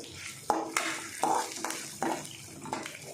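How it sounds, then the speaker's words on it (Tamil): Ginger frying in oil in a pan for chutney, with a steady low sizzle broken by several sharp stirring scrapes and clinks of a spoon against the pan, close and fairly quiet. "இப்போ அதை நல்லா ஃப்ரை பண்ணி விடணுமா? ஆமாம். நல்லா ப்ரௌன் கலரில் ஃப்ரை ஆகும்."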